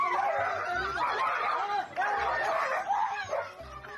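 A teased dog yips and barks in quick bursts, close and excited, with a person's voice mixed in among the barks.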